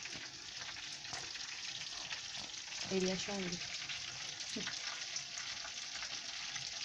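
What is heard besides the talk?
frying food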